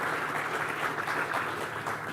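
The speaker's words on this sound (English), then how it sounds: "Please give them a round of applause." An audience at a sustainable innovation conference claps for speakers on stage, a dense, even round of applause filling the whole short moment, with no talking.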